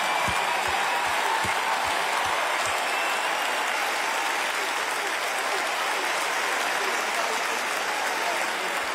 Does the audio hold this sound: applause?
yes